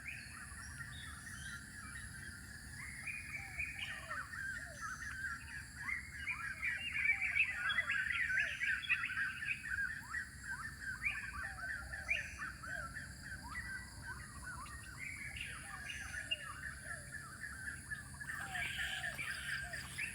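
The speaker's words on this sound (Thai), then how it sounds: "บรรยากาศในไร่ จะมีเสียงนก" Faint birds call outdoors on a farm in Thailand, with repeated harsh caws and scattered chirps over a soft background hum; distant and quiet throughout.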